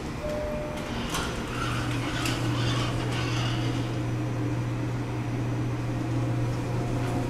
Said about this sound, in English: Here we come to the elevator at Gebauer Hall.